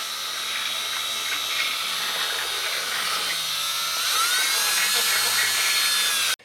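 A power tool spins a bit to clean out the wheel bearing bore on a Subaru Forester, making a loud, continuous whirring whine whose pitch shifts as it works; it runs for about six seconds and then cuts off abruptly.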